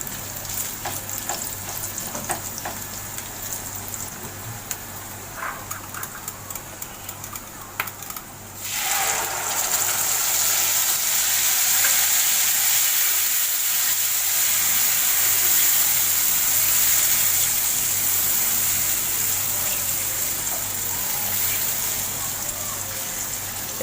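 Curd mixture stirred continuously in a pan over low gas, a quiet sizzle with scraping spoon strokes that swells into a louder, steady frying hiss partway through.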